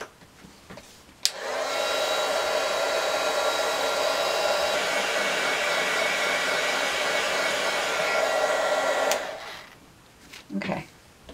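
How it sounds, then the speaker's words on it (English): A heat tool blows steadily to dry alcohol marker ink on vellum, a loud, even whooshing drone running for about eight seconds before switching off, with faint handling noises around it. "with my heat tool."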